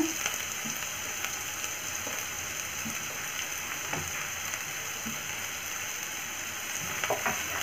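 Green chillies fry in hot oil in a pan, making a steady, even crackling sizzle with scattered pops, close and fairly quiet, with no talking over it.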